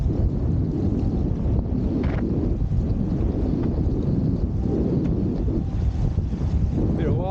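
Wind gusts roar steadily across the microphone while wing surfing on open water, a dense continuous rush with low buffeting and splashing throughout.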